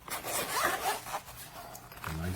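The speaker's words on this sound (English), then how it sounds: "A nice zipper." The zipper on a small carrying case for a clamp multimeter is pulled in a quick rasping run, followed by softer rubbing and handling noise, fairly close and quiet.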